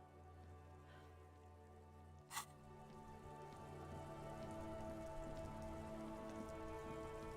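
Steady rain falls in the video game Disco Elysium, a soft continuous patter on surfaces with a brief brighter splash early on, heard alone without talk.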